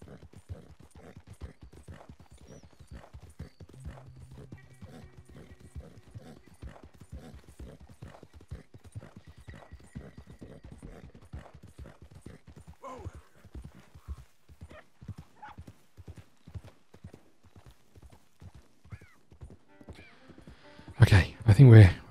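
A horse gallops in the Red Dead Redemption 2 video game, with steady rapid hoofbeats running throughout at moderate level, ending in a sudden loud burst of noise.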